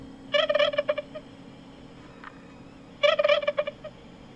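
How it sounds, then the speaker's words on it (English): A toy recorder plays back a recorded turkey gobble twice, each a rapid burst of warbling, rattling calls about a second long, separated by a short quiet pause, fairly clear and close. "So there's the turkey gobbling."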